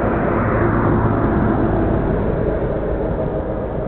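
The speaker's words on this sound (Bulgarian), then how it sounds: "Ето, минава си камиона" A truck passes on the Struma highway, a steady, loud, broad rumble of engine and road noise throughout, close with no break.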